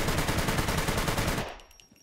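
Rapid automatic gunfire in a shooting video game rattles loud and close in an unbroken burst, then cuts off and leaves a short fading tail.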